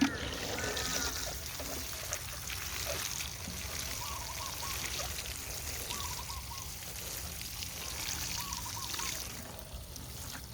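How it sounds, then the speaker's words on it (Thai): Water trickles and dribbles steadily onto potted chili plants. The splashing is soft and continuous, fairly faint, with some background noise and a voice at times. "ก็รดน้ำค่ะ"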